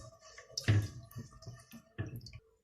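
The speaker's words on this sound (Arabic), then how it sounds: "وهنزل بكوبايتين الميه" Two cups of water go into a cooking pot of fragrant spices, heard as a couple of short, close splashing pours with soft dripping between them, quiet and brief.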